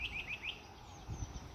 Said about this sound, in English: Little bird over there chirping away